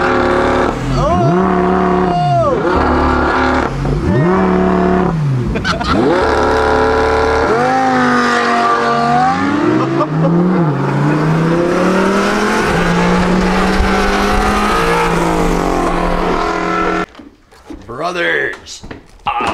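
A Toyota Supra revs and roars past close by, the engine note rising and falling loudly through most of the stretch before cutting off, with excited voices talking over it.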